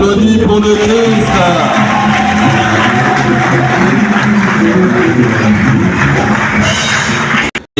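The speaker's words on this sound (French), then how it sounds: "on applaudit pour le Christ" A congregation at Saint Paul Cathedral applauds during an Epiphany solemnity mass, a continuous loud wash of clapping from a large crowd blended with sustained music or singing in the church, cutting off abruptly at the end.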